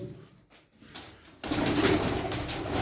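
Taklacı tumbler pigeons coo softly inside a coop, first faint and sparse, then half masked by a sudden surge of loud, rushing noise.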